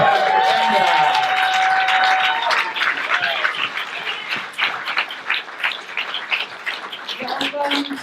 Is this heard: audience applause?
yes